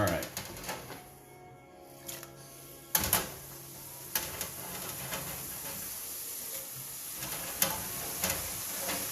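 French fries frying in hot oil give a steady, fairly quiet sizzle with scattered sharp crackles and pops throughout.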